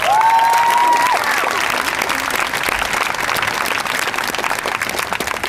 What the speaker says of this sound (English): so big applause for those guys.